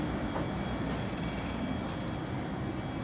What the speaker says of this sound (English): This train is actually using the train wash.